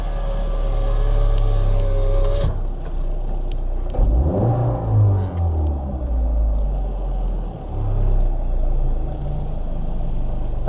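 A 2012 Fiat car's engine, just fitted with a new starter, runs steadily at idle with a low, loud, continuous rumble and a brief rise in revs partway through, with no talk over it.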